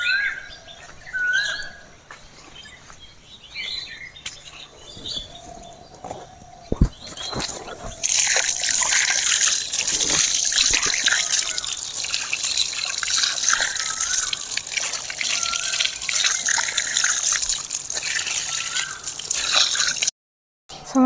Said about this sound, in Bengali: গাজরগুলো কলে আমি ধুয়ে নেব